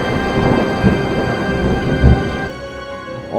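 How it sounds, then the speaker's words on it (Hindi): A loud, sudden crack of thunder rumbles with dense low roar for a few seconds, then drops abruptly into a quieter hum. "ज़ोर की बिजली कड़की"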